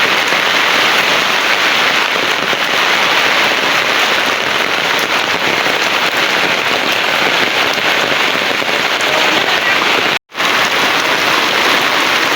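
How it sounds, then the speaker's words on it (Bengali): Heavy rain pours steadily onto a village courtyard, a dense, continuous loud hiss with no letup apart from one momentary break near the end. "যে পরিমাণ বৃষ্টি নামছে, সকাল থেকে বৃষ্টি একটু পরপর হইতাছে।"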